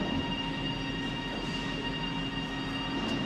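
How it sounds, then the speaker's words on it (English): A train in Spain moves steadily along its rails, making a continuous rumbling, rolling drone with a faint high whine, loud and close, with no speech. "And the train moves."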